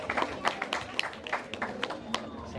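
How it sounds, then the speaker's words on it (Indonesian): An audience at a novel discussion event claps in scattered, uneven bursts, with some crowd murmur underneath. "Tepuk tangannya semuanya."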